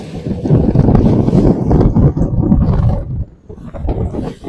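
Strong wind buffets a small fishing boat on choppy water, a loud, rumbling roar of gusts battering the microphone that surges and dips without pause.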